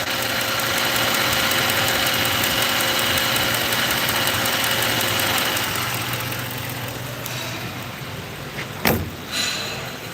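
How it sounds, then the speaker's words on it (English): The Ford V8 in a 2006 Mercury Grand Marquis LS with about 80,000 miles idles steadily with a fast, light mechanical ticking, up close. A single sharp knock or thump comes near the end. "that's not a tick. That's how these motors sound."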